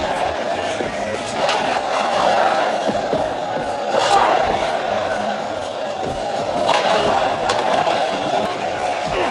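Crowd at a fight in a film, a dense, steady roar of many voices chanting and shouting throughout, loud and continuous with occasional sharper accents.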